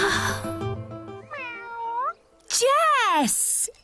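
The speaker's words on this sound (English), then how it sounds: "The alien cat." A cartoon cat meows twice, the second call rising louder and more drawn out, with a voice talking at the start.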